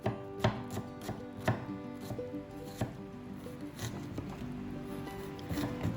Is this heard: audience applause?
no